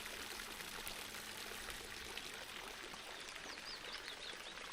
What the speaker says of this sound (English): The water from the fountain completes this typical Provençal ambience.